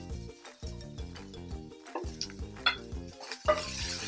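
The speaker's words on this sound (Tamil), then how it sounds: "அதுக்கு அடுத்த அப்படியே சாப் பண்ணுற வெங்காயத்தை போட்டுடலாம்." Chopped onions and garlic sautéing in a pan, heard as intermittent stirring scrapes and clinks of a spatula against the pan over a soft sizzle, fairly close and with no voices.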